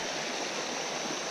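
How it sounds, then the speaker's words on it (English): Hurricane Creek in a wilderness area runs with a low summer flow, a steady close rushing and burbling of stream water that fills the whole moment without a break. "This is Hurricane Creek."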